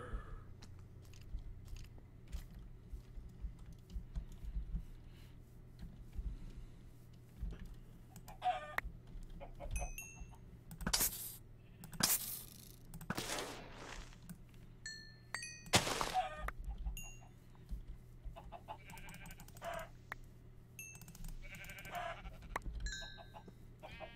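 Many chickens in Minecraft cluck in scattered bursts over a steady low ambient hum, with occasional louder close squawks among fainter ones.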